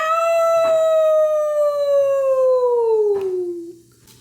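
A wet dog lets out one long, loud, close howl that slowly falls in pitch over about four seconds before fading, with a few faint clicks behind it.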